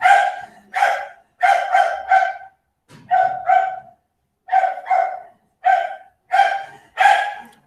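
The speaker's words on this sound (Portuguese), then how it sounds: "Deixa o cachorro se acalmar um pouquinho." A dog barks near the microphone in repeated bursts of two to four sharp barks, with short pauses between, as its owner drives away; no one talks.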